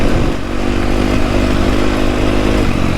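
A Husqvarna FC250 dirt bike engine runs loud and close, holding a rough, steady high-rev drone with a slight dip before climbing again.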